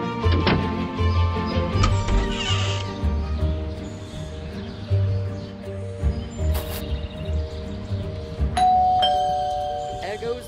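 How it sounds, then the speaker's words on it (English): A doorbell chimes in the Scary Teacher 3D video game, ringing out clearly with a ding-dong over steady game music and ambient effects while a voice talks throughout. "There goes that stupid bell again."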